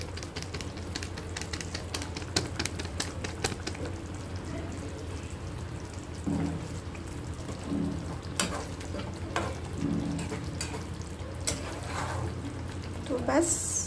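Katla fish simmering in a spiced yogurt gravy, a soft ongoing sizzle with scattered spoon clicks and light stirring, fairly quiet, with a voice speaking over it now and then.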